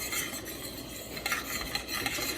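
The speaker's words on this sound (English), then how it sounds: "I just put a teaspoon of that in here, and I'm stirring that around" A spoon stirring linguine sauce in a pan, scraping and rubbing against the metal in a steady close rhythm with a light sizzle beneath, no talking.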